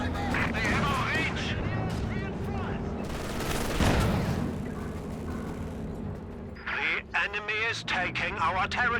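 Rifle and machine-gun bursts and distant artillery crack through a Company of Heroes 2 multiplayer battle, while chirpy in-game unit voices chatter over the firing.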